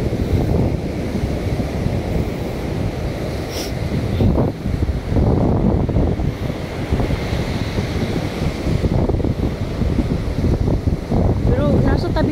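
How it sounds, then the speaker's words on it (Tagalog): Wind and waves roll onto a seashore, a steady, loud wash of surf mixed with gusty wind buffeting the microphone, continuous throughout with faint voices beneath. "Pero nasa tabing dagat ito"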